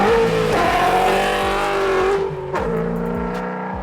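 A Coyote V8 engine in a Fox-body Mustang revs loudly and close, roaring through rising and falling pitch, then eases off before revving again near the end.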